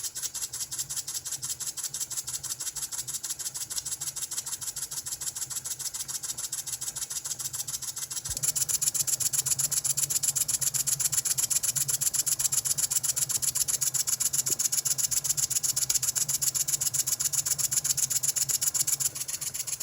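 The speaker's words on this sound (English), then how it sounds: "As you can see, the engine runs beautifully." ENJOMOR live steam engine kit running: a rapid, even mechanical chuffing and ticking that holds a steady rhythm throughout and grows slightly louder and busier partway, close up with no voices.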